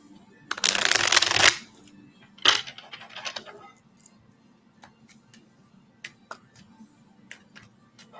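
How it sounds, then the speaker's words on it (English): Tarot cards are shuffled close by in a loud riffling burst, followed by a shorter second shuffle and then scattered soft taps and clicks of cards being handled. "Are we done shuffling?"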